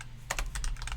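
Quick bursts of keystrokes on a computer keyboard as a search is typed, about a dozen close, crisp clicks over a second.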